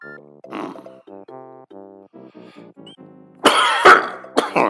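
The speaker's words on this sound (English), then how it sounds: "Sorry for all the coughing." A person coughing during a Super Mario Maker 2 game stream on Nintendo Switch: a run of short throaty rasping sounds, then two loud harsh coughs close to the microphone.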